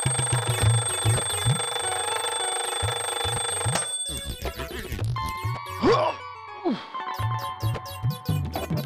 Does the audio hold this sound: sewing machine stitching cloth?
no